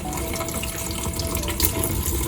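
Hot water runs steadily from a KVK MYM200-series single-lever hot and cold mixer faucet, a continuous close splashing hiss with no talk over it.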